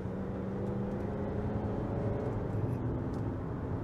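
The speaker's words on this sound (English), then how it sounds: "Of course, being a non-turbo engine, there's no lag with acceleration." A 2023 Kia Sportage X Line with a non-turbo 187-horsepower engine accelerates while merging into traffic, its steady engine drone and road noise heard from inside the cabin at a constant level.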